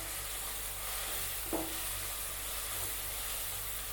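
Onions fry in a pan for mushroom masala, giving off a steady, quiet sizzling hiss. Partway through, a single brief scrape of a spoon stirring them cuts in. No one speaks.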